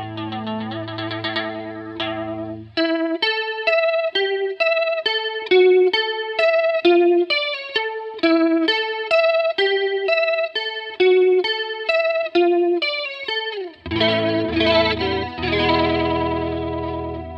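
Electric guitar through a Boss BF-2 flanger pedal with the rate turned up high, playing chords and a picked riff with a fast, swirling, sweeping modulation, loud and alone.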